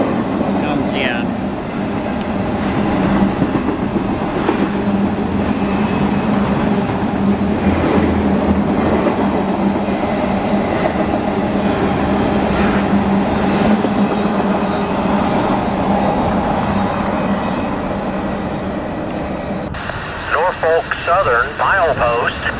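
A freight train rolls past for a long stretch, its wheels clacking and rumbling loudly and steadily on the rails, with a sharp squeal partway through and an abrupt cutoff near the end.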